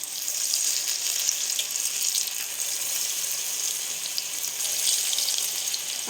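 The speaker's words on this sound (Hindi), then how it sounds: "अब हम बैटर को डालते जाएंगे इसमें।" Potato and onion pakoda batter deep fries in a pan of hot oil, a dense, steady bubbling sizzle that stays even and close for several seconds with no voices.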